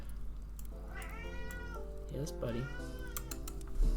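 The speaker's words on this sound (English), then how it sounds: "Please excuse my cat." A house cat meows twice, near and clear, with soft keyboard typing nearby and someone speaking briefly during a Pokémon card game session.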